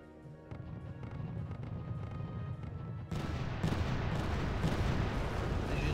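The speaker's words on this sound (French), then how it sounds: "ces canons vont faire feu sur mes artilleries" Cannon and artillery fire in a strategy video game, a dense, continuous rumble of booms that grows louder and fuller midway through, with no talking.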